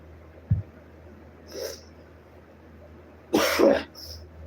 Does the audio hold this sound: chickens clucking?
no